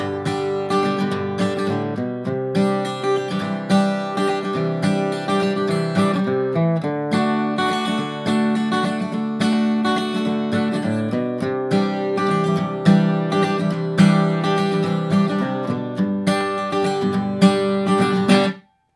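Steady strummed acoustic guitar chord progression with bass-note walk-ups and walk-downs linking the chords. Rhythmic, bright and close, it plays continuously on its own for about nineteen seconds before stopping.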